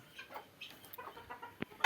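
Tiger chickens on a farm cluck in short, soft bursts nearby, with a louder squawk right at the end and no speech.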